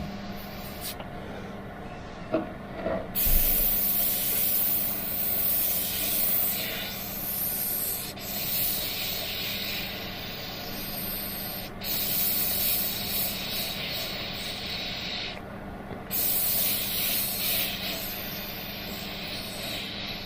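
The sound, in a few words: airbrush spraying paint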